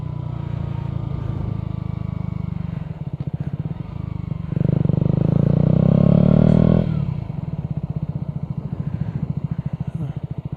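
A 2017 KTM Duke 125 motorcycle idles with a close, rapid single-cylinder putter, briefly revving louder in the middle before settling back to a steady pulsing idle.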